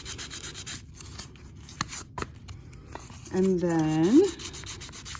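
Fine-grit 2000 sandpaper, folded over, rubs against a piece of metal jewelry in soft, close, repeated scratchy strokes; someone speaks briefly near the end.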